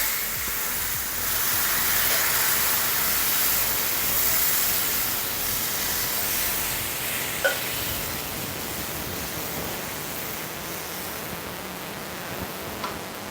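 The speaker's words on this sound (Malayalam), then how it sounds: "വാളമ്പുളി വെള്ളം ഇപ്പം നന്നായിട്ട് തിളച്ചിട്ടുണ്ട്" Tamarind water for Kerala ginger curry boiling in a pan, a steady loud bubbling hiss with a few faint ticks, heard alone without talk.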